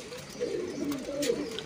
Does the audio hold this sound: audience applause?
no